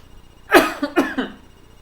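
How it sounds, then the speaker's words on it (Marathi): Two quick, close coughs in a row from one person, against a quiet background. "मलाही खोकला खूप आहे"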